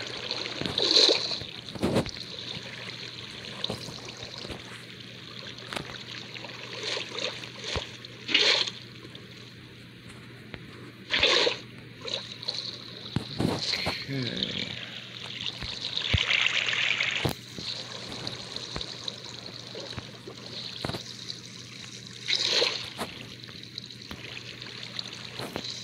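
Flowing water in Minecraft Bedrock Edition, a steady soft trickling and streaming under the scene, with intermittent clicks and brief block sounds scattered throughout and no talking.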